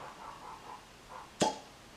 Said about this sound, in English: Let's hear that pop.